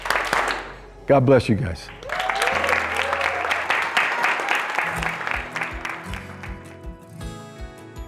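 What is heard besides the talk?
applause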